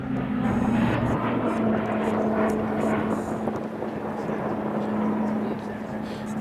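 A training aircraft flies past at the RAF Cosford air show, giving a loud, steady propeller-engine drone that holds throughout. An announcer's voice is audible under it.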